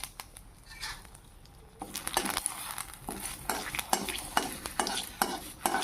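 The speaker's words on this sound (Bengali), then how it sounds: "তো প্রথমে পুরনের জন্য নিয়ে নিয়েছি এখানে তেজপাতা আর শুকনো লঙ্কা।" Bay leaves and dried red chillies sizzle in hot oil for tempering a potol-aloo curry with moong dal, with quiet crackle first, then loud repeated stirring scrapes in a pan over a steady frying hiss.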